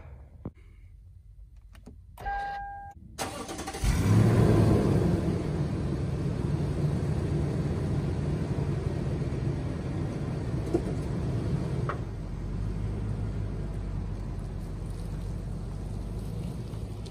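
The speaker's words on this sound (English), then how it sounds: "Let's get in the car and start it up." A Lexus 200 Series Land Cruiser starting up: a few clicks and a short whir, then the engine catches with a surge and settles into a steady, low idle heard from inside the cabin.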